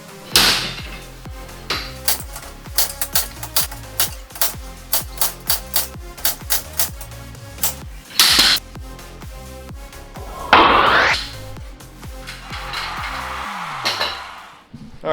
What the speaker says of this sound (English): now I'm gonna get my slide hammer, hook it up here, and start yanking on this thing